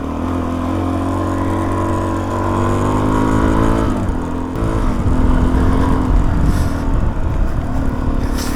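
A motorcycle engine drones loudly and steadily while the bike rides through deep water, its tone shifting partway through as the rushing, churning splash noise thickens under the motor.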